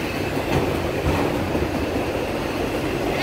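Long CSX autorack freight train passing close on the rails, a loud continuous rumble with clattering wheels and faint metallic squeal, steady throughout.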